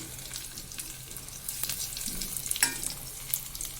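Finely chopped garlic sizzles steadily in hot oil in a pan, with a spoon stirring through it and a few sharper scrapes and clinks, close and moderately loud, no voices.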